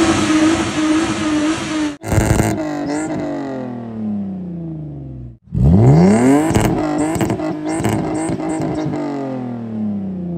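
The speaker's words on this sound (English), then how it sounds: "We have a Spec D fabricated straight pipe catback exhaust." A Lexus IS300 engine revs hard through a Spec D fabricated straight-pipe catback exhaust. Loud rising and falling revs are broken by brief drops to near silence, and the rasp between bursts is close and continuous.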